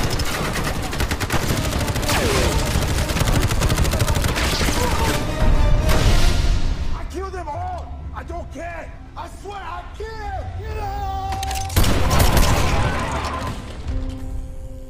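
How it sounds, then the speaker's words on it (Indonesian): Gunfire rings out in a film shootout with pirates: dense, sustained bursts of shots and impacts come in two loud waves, with voices and a score filling the quieter stretch between them. "yang pada akhirnya memicu terjadinya baku tembak"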